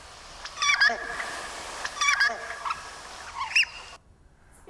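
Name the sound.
pink-eared duck call recording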